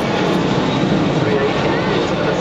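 An Airbus A380 airliner flying past at an airshow, a loud continuous broadband jet engine roar filling the whole clip at steady, close intensity.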